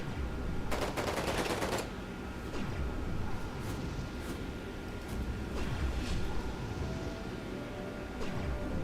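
Mech guns in Era One fire in a short, rapid burst of shots at medium distance, followed by scattered faint pops over a steady background rumble.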